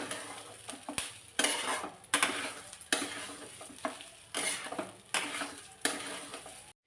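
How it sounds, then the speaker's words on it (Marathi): Rice roasting in ghee in a kadhai with a little salt, a low sizzle broken by repeated scraping stirs of a spoon against the pan, about eight strokes in an uneven rhythm. "एवढा मस्त असा तांदूळ भाजून घेतला"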